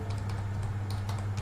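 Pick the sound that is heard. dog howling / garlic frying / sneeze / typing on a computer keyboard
typing on a computer keyboard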